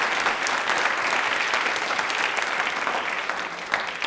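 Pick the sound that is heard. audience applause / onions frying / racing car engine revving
audience applause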